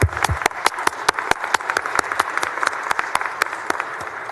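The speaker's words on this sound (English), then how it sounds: "Let's give Victoria a round of applause." Applause from the floor of the Texas Senate chamber during a session, dense and steady clapping from many hands that carries on throughout at moderate distance.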